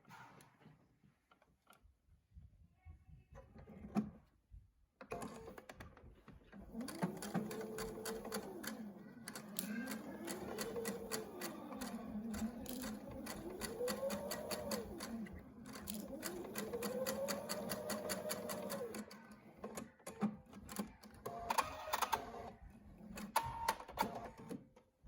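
A sewing machine stitches the sides of a fabric face mask, a steady mechanical whirring in several long runs with short pauses between them, quiet at the start and loud and close through the middle.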